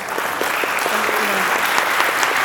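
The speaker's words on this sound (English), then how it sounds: "let's give them a round of applause" A crowd applauds indoors at a port administration building, with steady, dense clapping that holds at an even level for the whole stretch, some voices mixed in.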